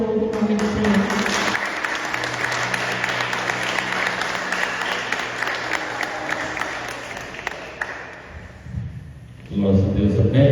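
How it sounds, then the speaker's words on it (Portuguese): A church congregation claps loudly and steadily for several seconds during a worship service, the applause fading briefly before voices and music return at the end. "que as palmas vão no nome do Senhor."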